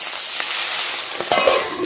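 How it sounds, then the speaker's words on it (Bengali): Fish fries in hot mustard oil with a steady, close sizzling hiss and a few small pops, brief and unbroken. "সরষের তেল দিয়ে মাছটা ভেজে নেব"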